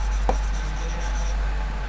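Chalk or marker writing on a board during a maths lesson on lines and angles, heard as soft scratchy strokes with a couple of brief taps over a steady low room hum, and no voice present.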